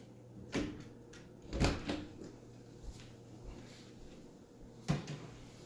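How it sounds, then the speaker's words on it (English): A door is shut indoors in a home, giving a close thump with a short knock afterward, followed by a few faint softer bumps against a quiet room background. "maybe just close this door too"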